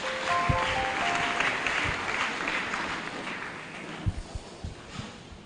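A church congregation claps after a Bible reading at a French-language service, sustained applause filling the room at moderate volume, with a few sharper claps standing out toward the end.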